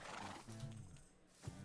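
A horse neighs in Minecraft, a short, faint whinny followed by a brief hoof clop, heard alone.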